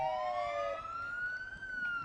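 Police car siren from a Manatee County Sheriff's vehicle in a Veterans Day parade, a loud, steady wail that glides down and then rises again, heard up close over outdoor crowd noise.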